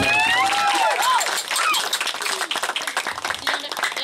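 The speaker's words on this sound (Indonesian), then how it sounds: "Tepuk tangan dong untuk bungkuan." Audience clapping at a Balinese traditional performance, short and lively, with whistling or tonal sounds over the opening moments and scattered claps continuing throughout.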